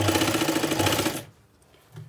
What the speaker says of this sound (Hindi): सिलाई उपर तक लगावांगी